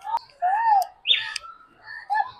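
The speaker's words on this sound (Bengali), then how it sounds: "এখানেই আছে আরো সমস্ত পাখি" Birds in a zoo aviary chirp and tweet in a few short, bright bursts with pauses between calls. The calls are clear and fairly close, with no talking.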